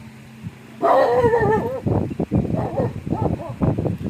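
A dog barks and yips close by in a quick, uneven series of short, loud bursts, with a brief whine at the start.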